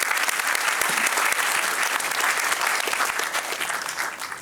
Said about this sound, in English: I think a big round of applause for Dr. Sandeep Marwa.